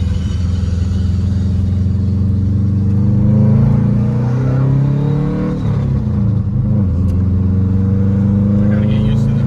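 Subaru WRX hatchback with an EJ25 engine and an FP Red turbo in the stock location, revving with a loud, deep exhaust drone that swells and eases over several seconds, heard up close.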